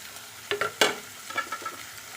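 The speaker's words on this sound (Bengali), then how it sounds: "এখন চিকেনগুলো দিয়ে দেবো চিকেনগুলো দিয়ে একটু পেঁয়াজের সঙ্গে ভালো করে নেড়ে নেবো" Chicken pieces are stirred with onions in a hot frying pan, giving a soft sizzle beneath several distinct scraping and clattering stirs, close by and with no talking.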